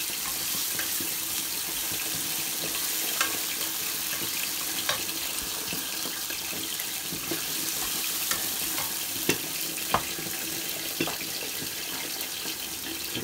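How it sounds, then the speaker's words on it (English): Green plantain seasoned with garlic powder fries and sizzles in a pan under a stir, a dense steady hiss with faint scraping clicks throughout, fairly close and with no voices. "Give it a stir."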